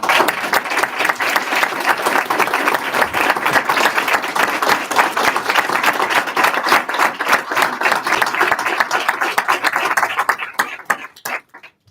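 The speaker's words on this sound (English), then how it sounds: "if you would just stand so we can give you an applause" Sustained, loud applause fills a room at a Capitol Hill briefing celebrating outstanding teachers, a dense crowd clapping for about ten seconds before thinning to a few scattered claps and fading out.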